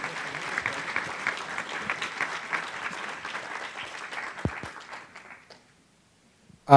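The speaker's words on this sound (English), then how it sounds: "Can we give a round of applause to these folks?" A room full of people applauding panelists at a forum on guns, brisk continuous clapping that thins out and stops, leaving near silence before a sudden noise at the very end.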